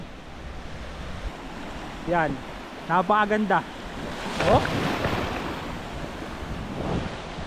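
Ocean surf rolls onto the front beach of a resort at El Nido, Palawan, as a steady washing hiss mixed with wind noise. People talk briefly and exclaim over it.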